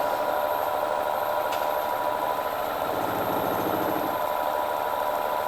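A wood lathe turns a bowl with the tailstock brought up and vibrates at speed. It gives a steady, loud mechanical drone with a rough, rhythmic rumble running throughout.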